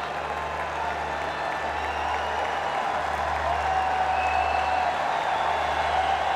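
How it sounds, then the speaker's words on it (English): A cricket crowd at Multan cheers and applauds a local batsman, Imam Ul Haq, reaching his half century, a broad, steady roar of clapping and voices from a distance that holds for several seconds. "the local boy gets a huge cheer from the crowd"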